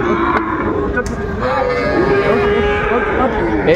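Cattle at a cattle market lowing with long, loud moos close by, one call after another over a busy crowd murmur.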